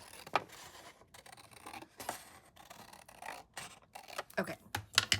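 Scissors snip away excess fabric bulk from a small sewn Christmas mouse pocket, a few quiet close cuts and rustling scrapes of material, with a soft voice talking nearby.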